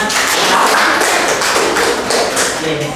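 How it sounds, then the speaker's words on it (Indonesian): An audience claps for group 2 at an Indonesian teacher-training session, with dense, continuous applause that stays loud and close for the whole stretch. "Kita berikan aplaus kembali untuk kelompok 2."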